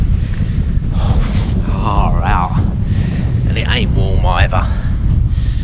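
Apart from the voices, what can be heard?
strong wind on a hilltop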